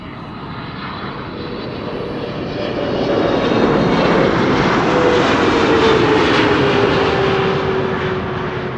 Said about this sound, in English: This is KLM flight 622, arriving from Atlanta, Georgia. It's a 777-300.